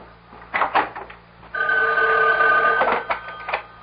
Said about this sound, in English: Excuse me, that's my phone.